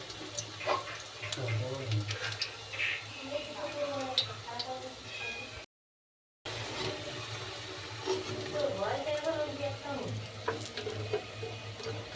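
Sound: frying in refined white oil

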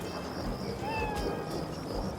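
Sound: kitten meowing softly in animated fairy tale

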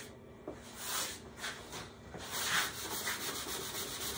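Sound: scraping wet glue off olive burl wood with cut-down putty knife

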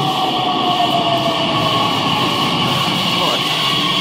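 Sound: train at a station in Leipzig

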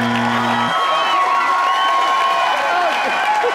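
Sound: audience applause

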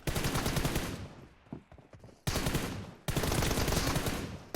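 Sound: gunfire in the video game PUBG Mobile

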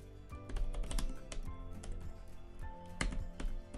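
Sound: typing on HP Pavilion x360 laptop backlit keyboard

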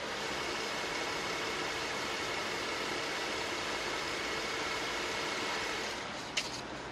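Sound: V6 car engine idling

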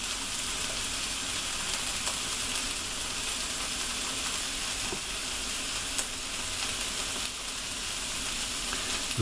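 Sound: vegetables sizzling in a pan

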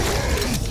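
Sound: gun reloading, from video game Killing Floor

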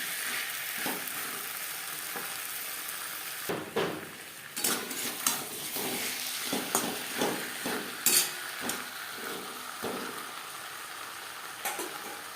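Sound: stirring potatoes with spices in a pan

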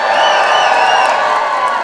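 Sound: studio audience crowd cheering

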